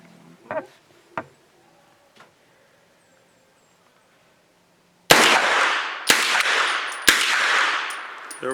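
Pistol-caliber carbine pistol firing Hornady Critical Defense Lite 100-grain rounds: after a few faint clicks and handling sounds, four loud, sharp shots ring out about one second apart, each leaving a long reverberant tail.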